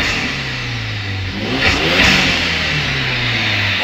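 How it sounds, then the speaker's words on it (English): A 1990s Ford F-150 V8 with an open air filter revs hard once, climbing to a throaty peak and falling back to a loud steady idle, close by in an enclosed space. "I'll give it a rev in here and I'll have you record."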